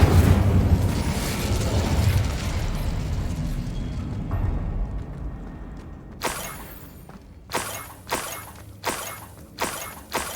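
Fire spell cast in the video game Hogwarts Legacy: a loud blast of crackling, rumbling noise that fades over several seconds, followed by a run of sharp bursts.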